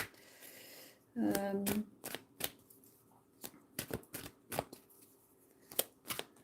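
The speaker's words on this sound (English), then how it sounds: "Give them a shuffle and wait and see if anybody else says hi." A deck of cards being shuffled during a live psychic medium session, one quick riffle burst followed by scattered soft card taps and slides, close and fairly quiet.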